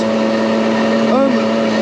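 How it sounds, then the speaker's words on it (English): A Puch Maxi 50cc moped engine runs flat out at top speed, a steady buzzing drone with a constant high whine, close and continuous throughout. "Don't worry about the sound of the engine and me doing top speed."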